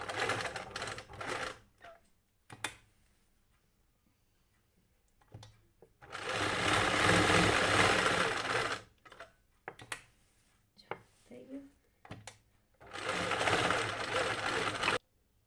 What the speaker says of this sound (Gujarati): જો બોક્સમાં આપણે આવી રીતના સિલાઈ કરી દેવાની.